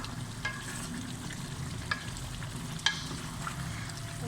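Chicken karahi masala sizzles and fries in a pan, a steady soft crackle with occasional sharper pops and clinks as it is stirred, heard alone without talk.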